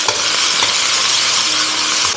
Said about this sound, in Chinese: 润完锅之后，我们先把料头、草菇片和姜片放入，